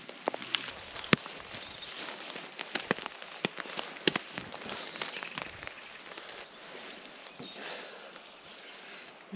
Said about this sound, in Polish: Całą noc padało.